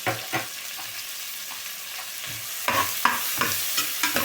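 Ginger-garlic paste and slit green chillies sauté in a pan for a vegetarian basmati biryani: a continuous close sizzle broken by rhythmic scrapes and knocks of stirring, with no talking.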